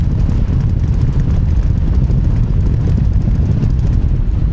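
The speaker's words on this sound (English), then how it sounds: "strong wind." Strong wind buffeting the microphone on a mountain ridgeline at Benaglow, a steady, loud low roar that never lets up across the whole stretch, with no voices.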